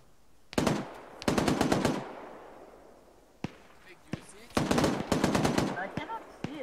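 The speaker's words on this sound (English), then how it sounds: "What are you guys shooting at?" Gunfire in the video game Arma 3 comes in two rapid automatic bursts, then scattered single shots and another long burst, loud and sharp with fading echoes.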